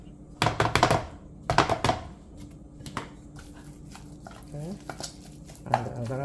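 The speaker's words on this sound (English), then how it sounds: "I'm gonna just continue to just do my mixing with my hand. So I'm adding the salmon." Salmon ball mixture being mixed by hand in a bowl, with a few close bursts of wet stirring and light clatter against the bowl, then quieter intermittent handling and soft knocks.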